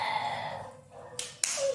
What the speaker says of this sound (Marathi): टाळ्या वाजवा रे त्याच्यासाठी सगळ्यांनी.